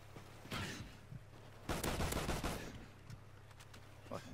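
Video game gunfire and explosions from a first-person shooter crackle in a few short, fairly faint bursts, with one longer rattling volley in the middle against quiet background.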